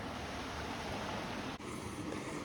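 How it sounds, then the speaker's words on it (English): Water rushing into a canal lock on a loch: a steady, broad churning wash of moderate loudness, continuous throughout with a brief dip partway, and no one talking. "Here comes the water."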